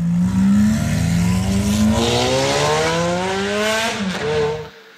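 Car engine with a flat-plane crankshaft in a Ferrari-like voicing: a loud, continuous high-revving note that climbs and wavers in pitch, then cuts off abruptly just before the end.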